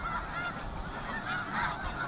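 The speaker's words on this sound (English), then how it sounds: "There's more birds in one place than I've seen" A flock of geese honks continuously at close to mid range, overlapping calls rising and falling with no pauses and no talking.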